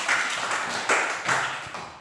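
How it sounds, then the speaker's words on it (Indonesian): Classroom of pupils applauding a presenting group, a brief burst of close clapping that rises, fades, then swells again in two further waves over about two seconds, with no talk. "Tepuk tangan untuk kelompok 4."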